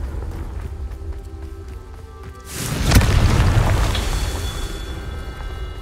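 Confringo fire spell blast in the Hogwarts Legacy video game: a sudden loud boom erupts midway and rumbles on, decaying slowly over game ambience with a faint ringing tone.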